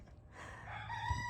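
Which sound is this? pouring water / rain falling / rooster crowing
rooster crowing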